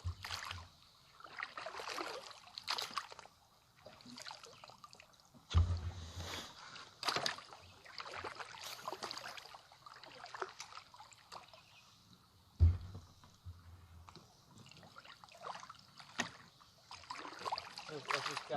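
A rowboat paddled across a pond, with soft oar splashes and trickling water in a loose rhythm, two louder thumps of the oars against the boat, and quiet voices now and then.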